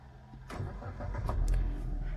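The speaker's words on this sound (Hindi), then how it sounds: "देखिए मैं स्टार्ट कर रहा हूँ कार को क्लच दबा के" A Maruti Suzuki Baleno Zeta is started with the clutch pressed. A brief crank catches into a low, steady engine idle, heard close up in about two seconds of continuous rumble.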